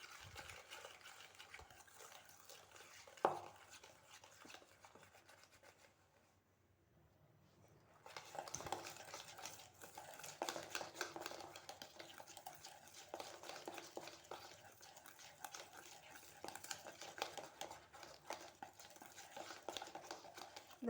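Butter and sugar being beaten by hand in a bowl for tea-shop butter biscuit dough: a steady, close scraping and stirring that pauses briefly, then resumes with brisker, denser strokes.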